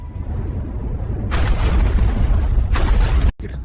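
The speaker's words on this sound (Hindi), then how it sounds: "पहला कदम काराकस पर एक साथ कई जगहों से तेज निशाने वाले मिसाइल हमले।" Missile strike explosions in a 3D animation of an attack on Caracas, a deep sustained rumble with two sharp bursting blasts, ending in an abrupt cut and a quieter tail.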